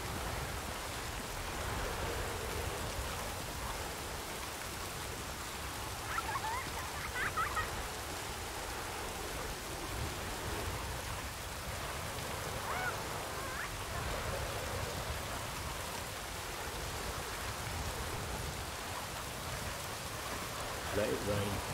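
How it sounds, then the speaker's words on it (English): Video game rain pours in a steady, dense hiss of falling drops, constant and moderately quiet, with a few slightly louder patches. "Let it rain."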